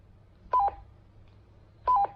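Two short electronic two-note roger beeps from a Baofeng two-way radio, spaced about a second and a half apart, clear over a faint low hum with no talking.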